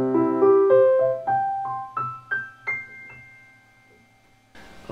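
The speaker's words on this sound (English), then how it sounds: "Let's start out with the Roland and a piano over here." Piano notes played through a Roland KC-110 keyboard amplifier set to half volume with flat tone, a rising run of single struck notes ringing clearly, ending on a brief sustained chord.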